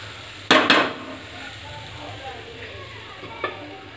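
Sago upma cooking in a covered pan: a faint, soft sizzle, broken by two quick clanks of metal near the start and one more near the end.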